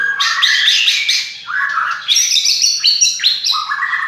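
Spotted-type (trotol) songbird singing a lively, varied series of chirps and husky, hoarse warbled phrases, close and continuous with short pauses between bursts.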